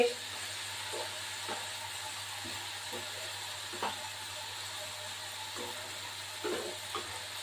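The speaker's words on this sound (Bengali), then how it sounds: "এই হলো আলুটা ভাজছি, আলু ভাজা বসিয়েছি" Potatoes fry in a pan with a steady, soft sizzle and hiss. Occasional faint clicks and stirring taps sit over the sizzle, which stays fairly quiet throughout, with no voices.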